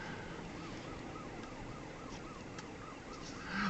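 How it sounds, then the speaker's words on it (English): Faint wailing sirens of emergency vehicles, including an ambulance, rising and falling far off across a snowbound Chicago road in a blizzard, over a steady wash of wind and traffic noise. "Hear the sirens."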